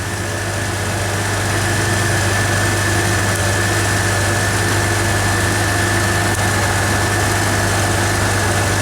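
A Jeep engine running steadily during a crank-no-start diagnosis, a constant droning hum with a low even tone, loud and unchanging throughout, with no voices.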